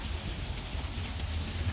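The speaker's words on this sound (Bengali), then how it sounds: "আর বৃষ্টিরও শেষ নেই" Constant rainfall hisses evenly with no pauses, a close, dense patter and low rumble throughout.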